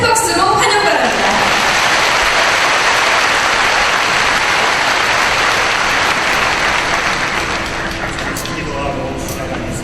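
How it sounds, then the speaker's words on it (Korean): Sustained audience applause at a church union worship rally in Gwangju, welcoming a pastor to the stage; dense, steady clapping fills the whole stretch and eases off slightly toward the end. "큰 박수로 환영 바랍니다"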